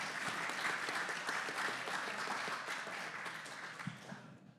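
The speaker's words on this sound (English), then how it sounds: "Let's get a round of applause for Aaron," An audience at a Lupulin Brewing Big Beer Week preview event applauds a head brewer with a full, dense burst of clapping that holds steady and then tapers off at the end.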